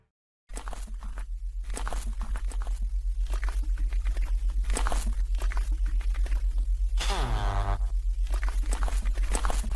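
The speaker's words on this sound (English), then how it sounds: "The person recording hides while we hear the footsteps of that thing approaching." Creature footsteps approach in an analog horror recording, a steady run of heavy, regular thuds that keep coming over a low droning hum, loud and close, with a brief tonal sweep partway through.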